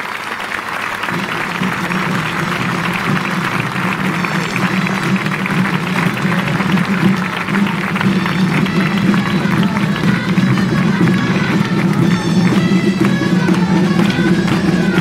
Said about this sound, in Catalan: Un fort aplaudiment també per ells.